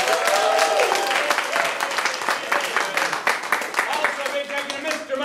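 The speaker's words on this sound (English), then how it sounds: "Everybody, give them a big round of applause." Audience at an improv comedy show giving a big round of applause, loud and sustained with many hands clapping close by, voices faintly mixed in.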